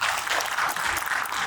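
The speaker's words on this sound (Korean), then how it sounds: "박수로 환영해 주십시오" An audience at a railway rolling-stock technical seminar panel discussion breaks into steady, even applause, a dense wash of clapping lasting about a second and a half.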